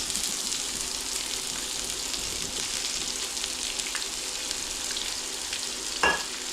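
Onion frying in a pan after bacon, a continuous even sizzle held close and fairly quiet, with one brief clink of a utensil near the end.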